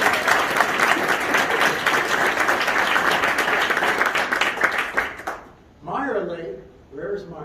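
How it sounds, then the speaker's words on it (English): A crowd gives dense, sustained applause for swimmers at a swim team gathering. It cuts off after about five seconds, and a voice then starts speaking. "Raise your hand, round of applause."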